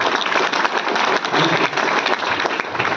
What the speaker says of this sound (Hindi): एक बार उनके लिए भी जोरदार ताली।